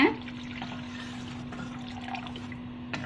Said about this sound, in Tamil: இதில் தேவையான அளவு தண்ணி சேர்த்துங்க